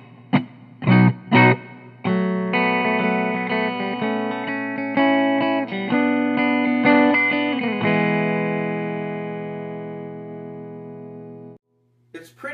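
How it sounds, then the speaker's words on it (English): Electric guitar played through the reverb on a Tech 21 Fly Rig 5 pedal: a few sharp muted strums, then sustained chords that ring out and decay smoothly with a subtle reverb tail before a brief final strum. "So the reverb I always have set at about 1130,"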